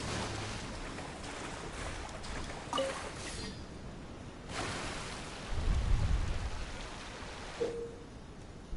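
Stormy weather in the Genshin Impact game world, a steady wash of rain with low thunder rumbles rolling in, rising to a heavier swell mid-way, with brief tonal cues and no voices.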